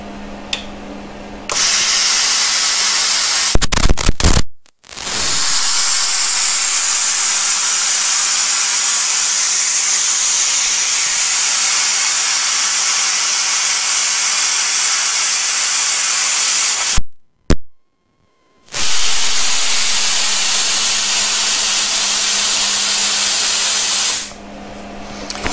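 A plasma cutter slicing through metal at a faster travel speed gives a loud, steady hissing roar, broken twice by short pauses and stopping near the end.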